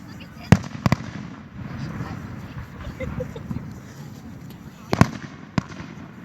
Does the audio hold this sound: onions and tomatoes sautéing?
no